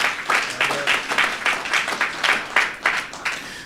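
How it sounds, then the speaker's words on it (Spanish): Audience applause at a church service in Bonaire, a steady patter of hand claps with rhythmic bursts, moderately loud and held for several seconds with no talking over it. "Um aplauso para o chauffeur na aqui"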